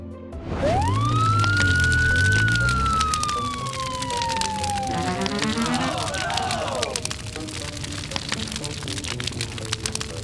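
A toy police car siren wails loudly up and down in a long sweeping tone, close by, over a busy rumbling background.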